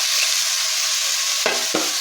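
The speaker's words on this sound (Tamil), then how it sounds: "அதை போட்டு கொஞ்சம் லைட்டாக உப்பு போட்டு உப்பு கொஞ்சம் தக்காளி வதங்கிறதுக்கு உப்பு போட்டு நல்லா வதக்க விடுவோம்." Tomatoes sautéing with salt in a hot pan give a steady, dense sizzle, with two brief scraping stirs near the end and no voices.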